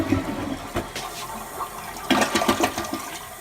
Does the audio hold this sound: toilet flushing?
yes